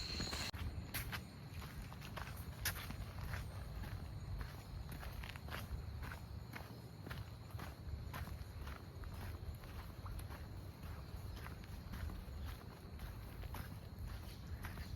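Footsteps walk steadily through the quiet Kalabhairava Temple in Vizag, a continuous run of soft, close steps over a constant hushed background with no talking.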